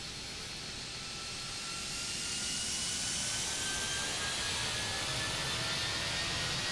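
IAE jet engines on a ToliSS A319 in X-Plane 11 running up, a steady broadband roar with a rising whine that swells in loudness and then holds, close and continuous with no talk.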